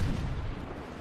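Grenades burst in a PC shooter, a short, loud, booming blast with a rumbling low-end tail filling the whole moment.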